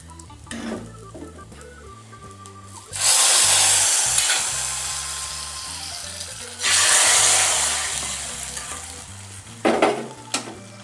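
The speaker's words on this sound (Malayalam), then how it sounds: "കുറച്ച് കടുക് ഇട്ട് കൊടുക്കും" Mustard seeds for Kerala-style roasted-coconut sambar hit hot oil with two bursts of loud bright sizzling and popping, each fading gradually, amid soft background music and light clinks.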